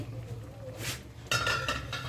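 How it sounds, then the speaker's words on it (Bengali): A metal lid clanks as it is lifted off a kadai on a low flame while coconut-milk prawn malai curry cooks, giving a few sharp clinks and a brief rattle, close and moderately quiet. "কড়াইয়ে ঢাকনা খুলছি।"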